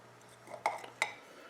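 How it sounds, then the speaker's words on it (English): A whisk or spoon clinks twice against a bowl while baking powder and all-purpose flour are stirred together as dry ingredients for corn muffin pancakes, fairly close and quiet over faint background hum. "Now we're just going to give this a little mix"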